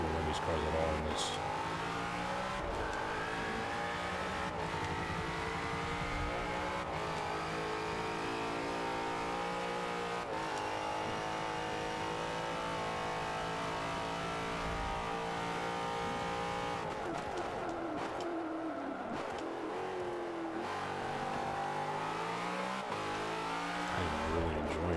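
V8 Supercar engines howl through a Long Beach street circuit in a racing game, one car's engine rising and falling through gears with brief tire squeals and a sharp drop near the end, mixed with talk.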